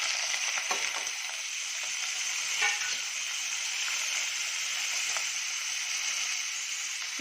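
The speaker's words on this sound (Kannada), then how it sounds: "ಇದೆಲ್ಲ ಸ್ವಲ್ಪ ಫ್ರೈ ಆಗಿದೆ" Tomato, onion and curry leaves frying in a pan, a steady bright sizzle with scattered crackles and a few sharper spits, close and continuous, no talking.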